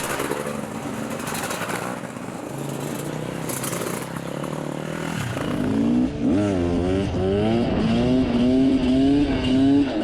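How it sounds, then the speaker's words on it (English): Beta 300 RR dirt bikes ride off toward the trails, their two-stroke engines revving and rising in pitch as they pull away, loud and close with no talk. "So we fired our machines into life and then headed off for a day in the dirt."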